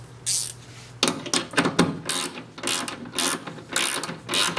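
A 10mm ratchet tightens Dee Zee tie down anchors in a GM truck bed, giving close, rapid clicking bursts in several separate strokes with short pauses between them.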